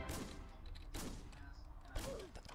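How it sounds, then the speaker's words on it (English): Gunfire from the Roblox game Wild Revolvers, three sharp shots spaced about a second apart over steady game background noise. "You have to shoot them multiple times."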